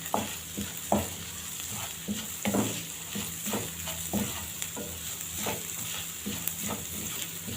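Rice with spices being stirred in a hot pot, a close, steady sizzle broken by a regular series of scraping spoon strokes about every half second.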